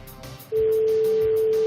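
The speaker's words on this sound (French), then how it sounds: "Ça sonne." A landline ringback tone sounds through a telephone call, a steady electronic tone that starts abruptly after a short stretch of quiet background and then holds loud and close.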